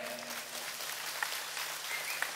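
Crowd applause from a large audience at an outdoor religious gathering on Prigi Beach, Trenggalek, heard as a steady wash of clapping that holds even throughout, with no speech over it.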